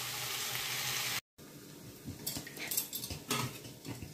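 Soft fish simmers in a covered pan, a steady hiss that drops out briefly and then returns with faint clinks and stirring sounds, close and moderately loud.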